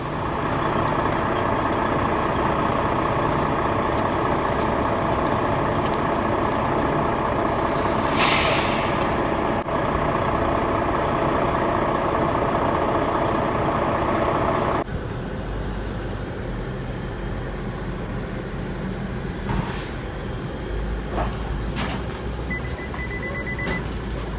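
A truck engine idles with a steady drone for a long stretch, broken by sharp hissing bursts of air brakes, then the rumble shifts lower and continues with occasional clanks.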